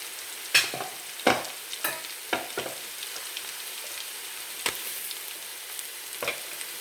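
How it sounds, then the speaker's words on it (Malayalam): Crushed ginger-garlic paste hits hot oil in a pan for mutton biryani, giving a soft steady sizzle broken by several sharp scraping stirs of a spoon against the pan. "അപ്പോൾ ഇതിലോട്ട് നമ്മൾ ചതച്ച് വെച്ചിരിക്കുന്ന ഇഞ്ചി വെളുത്തുള്ളി പേസ്റ്റ് എല്ലാം ഇട്ട് കൊടുക്കുക"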